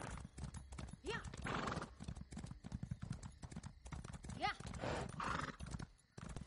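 Horse hooves clip-clop steadily in Elder Scrolls Online PvP, broken by two whinnying neighs, all fairly faint and mixed with voice chat.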